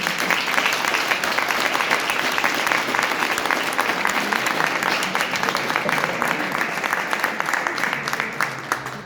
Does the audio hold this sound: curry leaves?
no